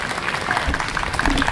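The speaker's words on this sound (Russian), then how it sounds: "Еще раз бурные аплодисменты." Concert audience in Almetyevsk applauding loudly and steadily for the singer, a dense wash of clapping with crowd noise filling the whole moment.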